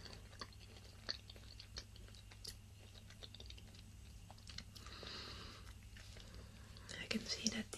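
Italian nougat studded with nuts being chewed close up in a quiet ASMR setting, with soft crunchy mouth sounds and small clicks that grow denser near the end, over a low steady hum.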